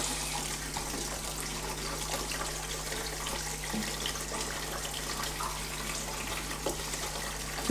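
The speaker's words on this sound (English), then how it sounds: "Just drain some of the fixer off over the fixer tray, and that's the print." Photographic fixer drains off a black and white print into a fixer tray in a darkroom, a steady close trickle of liquid running continuously, with no speech over it.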